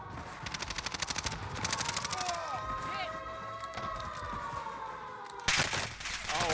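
Rapid automatic gunfire from a Warzone match on Rebirth Island, including an AS44 rifle, rattles in quick bursts, then a tonal whine runs beneath a sudden loud shot near the end, mixed with game sounds.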